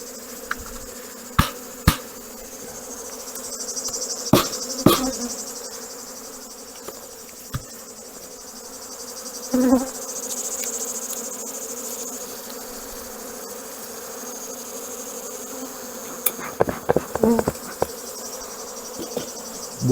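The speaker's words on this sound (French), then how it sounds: "il y a des abeilles qui commencent à s'agacer." Agitated honeybees buzz around hive boxes while nucleus colonies are merged before wintering, a steady close drone with individual bees zipping past the microphone, broken by occasional sharp knocks of equipment.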